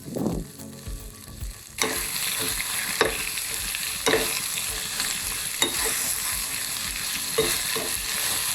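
Onions, green chili, curry leaves and pandan are dropped into hot oil, and a loud sizzle surges up and holds steady, punctuated by periodic stirring knocks and scrapes against the pan.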